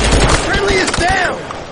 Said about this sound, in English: He's got a heavy machine gun, sounds like.